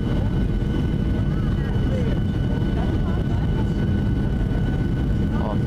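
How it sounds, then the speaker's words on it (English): Cabin of a WestJet Boeing 737-700 airliner on approach to land in Barbados, a loud, steady engine and airflow roar filling the whole stretch, with faint voices underneath. "Oh, beautiful day for landing."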